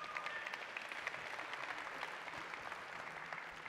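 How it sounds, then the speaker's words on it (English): An audience claps steadily throughout, a dense patter of applause that sounds faint and somewhat distant. "big round of applause"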